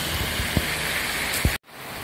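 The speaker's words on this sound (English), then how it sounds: "Weather is horrible, as you can tell or see. Okay, it's raining." Steady rain falls outside a restaurant in bad weather, a dense even hiss with a couple of soft thuds, and then it stops abruptly.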